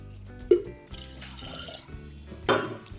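A glass of water is poured into curd in a clay pot, giving two brief splashes with soft trickling between them, close and fairly quiet.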